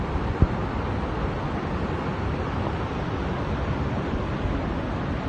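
Floodwater streams across a road in a steady, unbroken rushing roar, loud and close throughout, with no voices over it.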